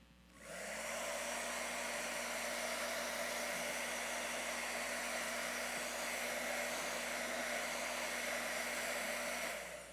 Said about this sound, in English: A little more hairdryer action.